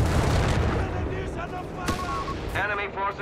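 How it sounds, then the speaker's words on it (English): An M2A1 howitzer firing in the video game Company of Heroes 3, a heavy artillery boom with a low rumbling tail, heard under a commentator's talk in a short burst of battle noise. "There's the M1, it's the M2A1 howitzer."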